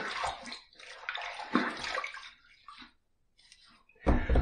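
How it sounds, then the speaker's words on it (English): Water splashes and drips in bursts as hands wet a face at a sink before a shave, fairly quiet and close, with short pauses between splashes. "So let me just wet the face and we'll get going with the hot towel."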